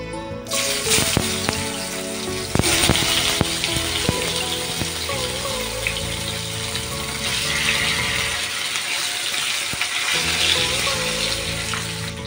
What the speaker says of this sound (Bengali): আলুটা আমার বেশ ভাজা ভাজা হয়ে এসেছে, দেখতেই পাচ্ছ